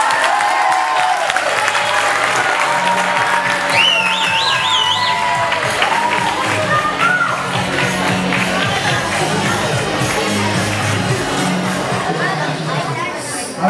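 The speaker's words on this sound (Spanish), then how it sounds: "Un aplauso" A school audience fills a hall with sustained applause and cheering, crowd chatter and shouts mixed in, steady and fairly loud throughout, with a few voices rising above the noise.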